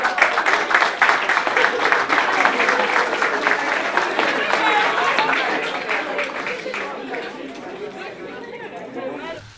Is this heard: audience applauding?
yes